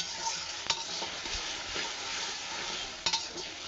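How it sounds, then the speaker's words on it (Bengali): Spice paste with salt and coriander powder frying on a wood-fired stove, a constant close sizzle with a couple of sharp clinks and scrapes from stirring the pan. "স্বাদ মতো লবণ দিয়ে মশলাটা ভালো করে কষাবো"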